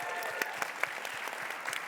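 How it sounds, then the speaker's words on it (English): An audience at a conference panel on law and power claps steadily, a dense patter of many hands with a few sharper individual claps standing out, no voices on top. "they're clapping for you."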